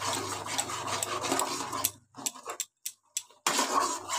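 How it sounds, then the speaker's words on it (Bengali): Paneer masala spices are stirred in a pan with scraping and clinking utensil noise, steady at first and then broken into short bursts separated by quiet gaps. "এবার আমি মশলাটাকে ভালো করে কষিয়ে নেব।"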